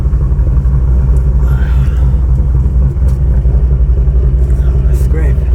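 A cammed, full bolt-on Ford GT500 running with NSR cams gives off a loud, steady, deep rumble, close by and continuous, with a slightly lumpy pulse throughout.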